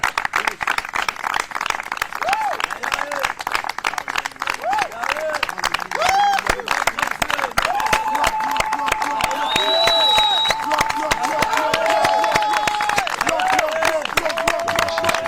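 A church congregation at a mountain prayer gathering claps in a fast, steady rhythm and cheers, with loud voices singing and calling out above the applause the whole time.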